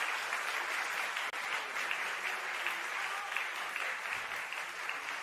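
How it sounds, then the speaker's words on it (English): Sustained audience applause fills a gala audition session, a steady dense wash of clapping that holds evenly from start to finish without pause or break. "Applause."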